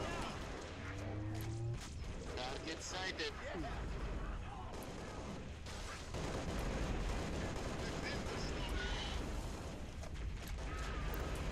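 Constant gunfire and explosions from Halo Reach's Master Chief Collection battle keep up a dense, loud roar with rapid shots and blasts throughout, and voices come through under the din.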